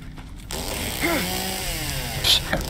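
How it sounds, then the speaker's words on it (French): A chainsaw attack from the Silent Hill 2 Remake video game, a revving motor whine that swells and bends in pitch for about two seconds, loud and close, with a brief sharp hit near the end and no talk. "Tu donnes un coup de tronçonneuse, ça arrive à le louper."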